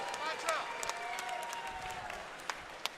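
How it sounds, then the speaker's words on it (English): Crowd applause and cheering at a fighting championship event after a three-round bout, steady clapping from a large audience with a few sharper claps standing out, over a faint voice. "Let's give both of these guys a big round of applause."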